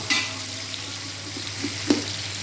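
Onions sizzle steadily in a pan for Kashmiri chicken pulao. A constant soft frying hiss carries a few light clicks of stirring, close and moderately quiet, with no talking.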